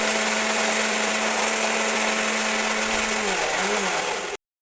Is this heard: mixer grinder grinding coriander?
yes